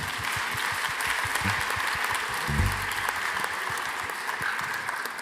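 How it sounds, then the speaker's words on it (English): Participants at a World Meditation Day gathering with Radhanath Swami applaud themselves, with dense, even clapping from a sizable crowd that holds steady at moderate volume throughout. "Give a big round of applause to yourselves."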